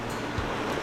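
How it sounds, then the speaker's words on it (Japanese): Churning open sea around a remote uninhabited island in Japan's Goto Islands, heard as a brief, steady broadband wash of rolling water with a low rumble and some wind, fairly close and continuous, with no voices. "海がうごめいてるわ。"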